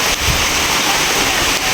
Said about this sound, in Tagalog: Ganun din na malakas ng ulan